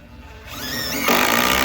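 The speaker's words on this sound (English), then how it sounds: "they'll drill holes in the tops of those and put brush in them" A power drill whirs briefly, its pitch rising as it spins up, then bites into wood with a louder, rougher grinding.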